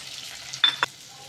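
Ground spices (turmeric, chili, coriander-cumin, garam masala) and sugar dropped into a hot pan with cashews and bitter gourd, giving two short, close sizzling bursts over a faint background hiss.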